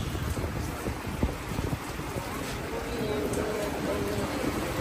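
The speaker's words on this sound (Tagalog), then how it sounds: "Ang lakas ng ulan" Heavy rain pours steadily in a dense, constant hiss, with a few low rumbles and brief knocks underneath.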